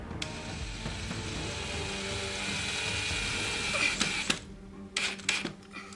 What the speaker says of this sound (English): you put the screw in about halfway